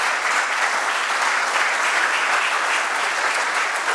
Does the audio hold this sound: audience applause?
yes